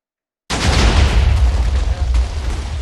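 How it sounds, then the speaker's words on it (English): A meteor impact in a video game, a heavy booming explosion that hits suddenly after a brief silence, then rumbles on with a deep, rolling low end and a second smaller jolt. "There's your meteor."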